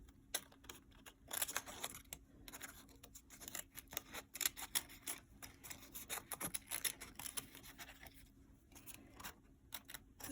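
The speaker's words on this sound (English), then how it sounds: "So I'm just poking my scissors right through." Scissors poke through a sheet of paper and snip at it, a run of close, crisp clicks and cuts in uneven bursts, quiet and alone with no talk.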